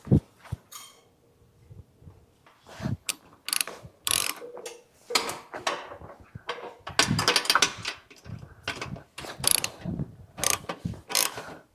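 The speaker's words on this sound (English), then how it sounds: "Get the hardware tightened up." Hardware on a Jeep JK running board being tightened with a ratchet, with bursts of quick clicking ratcheting separated by pauses, close and fairly loud, no talking.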